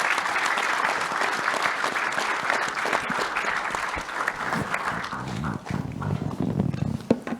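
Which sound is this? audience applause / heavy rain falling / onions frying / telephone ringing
audience applause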